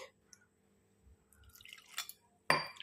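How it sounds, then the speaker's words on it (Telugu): Water is added a little at a time and stirred into thick readymade gobi 65 batter containing cornflour in a bowl, giving quiet, sparse drips, wet splashes and light clinks. "మనం చూసుకుంటూ వాటర్ కొద్దిగా యాడ్ చేసుకుంటూ కలుపుకోవాలి."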